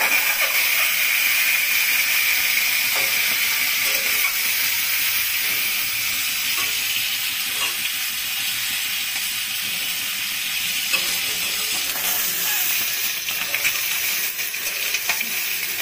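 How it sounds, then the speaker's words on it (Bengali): Eggs fry in butter in a pan for a rezala dish, a steady bright hiss and sizzle with small popping crackles running throughout, loud and close. "এক ছিটা বাটার দিচ্ছি। এখন আমি ডিমটা ছেড়ে দিচ্ছি।"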